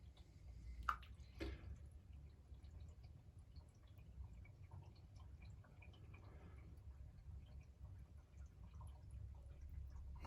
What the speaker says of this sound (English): And the water's slowly going down.